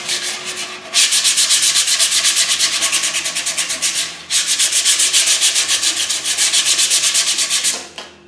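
Sandpaper rubbed by hand across varnished wood gives a close, rhythmic scratching of rapid back-and-forth strokes in two long bursts separated by a short pause, with nothing else heard.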